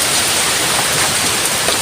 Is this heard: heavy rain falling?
yes